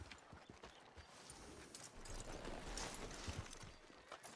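Horse hooves clip-clopping in the video game Red Dead Redemption 2, a steady run of soft hoof beats under a dense wash of ambient game sound, with no talk heard.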